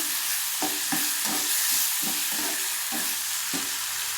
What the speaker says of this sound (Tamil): அதுக்கு இஞ்சி நல்லா வதங்கட்டும்